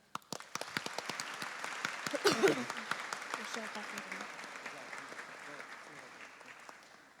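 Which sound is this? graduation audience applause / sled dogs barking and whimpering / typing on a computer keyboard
graduation audience applause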